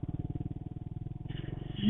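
A Triumph Scrambler motorcycle is ridden off-road at a dirt park. Its engine gives a steady, close, low chugging pulse that swells louder in the final moments.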